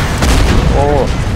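Rapid gunfire and booming blasts ring out during a modern-era Company of Heroes battle, with steady, dense bursts that continue throughout and a short voice briefly over the top.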